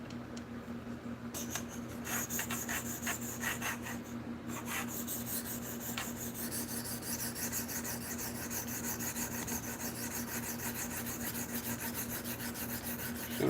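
A knife blade is drawn across a stone on a KME sharpener in repeated rasping strokes, close and fairly quiet, with a gritty filing texture and a steady background hum underneath.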